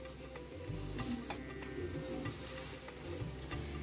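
Sev for a spicy Kerala mixture frying in oil over a medium to low flame, a steady soft sizzle and bubbling with faint ticks and crackles throughout.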